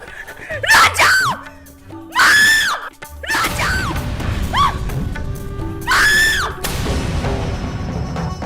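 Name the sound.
woman screaming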